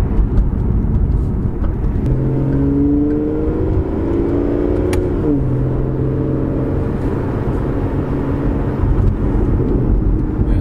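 An Aston Martin Vanquish cruises along the road, its engine humming steadily from inside the cabin with a brief rising rev and gear change midway under constant road rumble.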